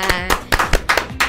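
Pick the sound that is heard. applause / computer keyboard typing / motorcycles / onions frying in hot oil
applause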